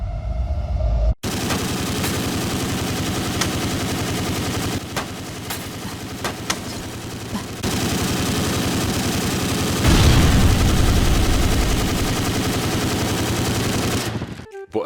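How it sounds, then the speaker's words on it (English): A big machine gun in an Unreal Engine 5 film fires a sustained, loud, rapid stream of shots into a fracturing building for most of the clip, with debris crashes and thuds mixed in, then it cuts off abruptly. "I had a big machine gun shoot it to pieces"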